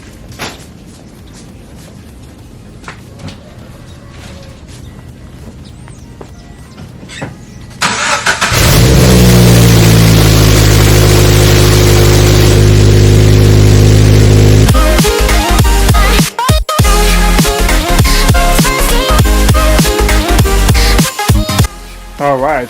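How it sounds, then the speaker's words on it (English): A 2013 Scion FR-S engine cold-starts after sitting three days, cranking and catching, roaring loudly at high idle after a quiet start, then settling into a steady rumble with some clatter. "Listen to this cold start."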